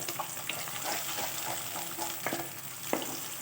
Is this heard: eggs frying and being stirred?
yes